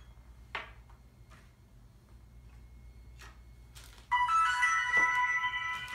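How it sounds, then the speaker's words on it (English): Yuneec ST10 Plus drone controller powering on with a bright electronic startup chime that starts suddenly and holds steadily over a low hum, after a few soft clicks. "ST10 Plus is turning on."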